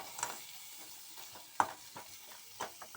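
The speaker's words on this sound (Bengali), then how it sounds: "আমি আলু, একটা গাজর আর একটু পেঁপে দিয়ে দেবো। এটা একটু ভেজে নেবো।" Potato, carrot and papaya fry gently in a pan, giving a soft, quiet sizzle broken by scattered spatula scrapes and clicks as they are stirred.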